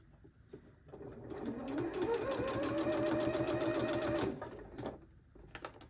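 Sewing machine stitching a pillow seam, speeding up into a loud, close, steady mechanical whirr of rapid stitches for about three seconds before stopping, with quiet handling noise before and after.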